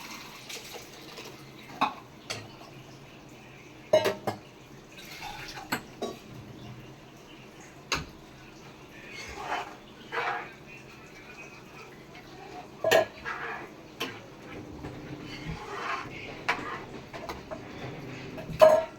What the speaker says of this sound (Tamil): இப்போ பருப்பை ஊற்றிக்கலாம்